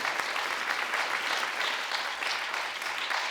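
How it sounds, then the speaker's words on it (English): Warm audience applause for the organizers of an art exhibition event, a continuous even patter of many hands clapping throughout, moderately loud and unbroken. "So please give a very warm applause, frenetic applause for the organizers."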